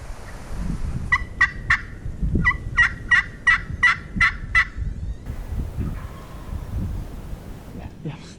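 Wild turkeys gobble in the distance on Nebraska public land, two quick rattling gobble bursts in sequence with soft wind noise between and low rustle underneath.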